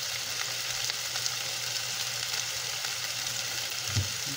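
Hamburger steak sizzles steadily in a hot skillet, a close, continuous frying hiss with no talk.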